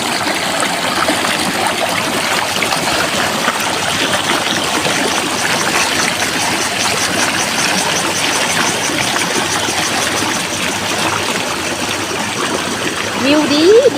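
Water flows steadily at a waterfall beside a canal in a natural Thai countryside setting, a continuous broadband rush that holds constant throughout with faint voices mixed in underneath.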